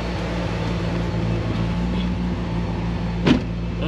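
A turbocharged car engine idles with a steady, even low hum, close and constant, with one brief click near the end.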